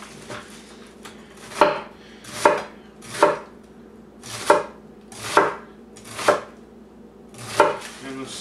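A knife chops celery on a cutting board in seven distinct, evenly spaced thuds about a second apart, close and crisp against a quiet kitchen background.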